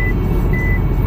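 Two short, thin warning beeps from an MG4's lane-keeping alert as the car rolls onto the painted line, fairly faint over a constant low road hum inside the cabin.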